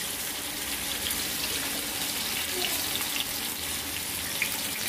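Surmai kingfish pieces frying in a pan over a low gas flame, giving a soft, even hiss and sizzle that holds steady throughout.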